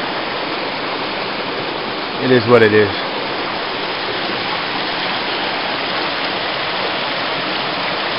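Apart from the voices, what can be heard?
mountain stream water flowing near campsite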